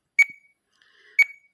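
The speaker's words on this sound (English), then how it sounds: "So we need to wait the 10-second beep." Two sharp electronic beeps from a radio-control transmitter running OpenTX/EdgeTX/Ethos timer templates, spaced about a second apart, each short and bright, with faint electronic chirping between them and no talk.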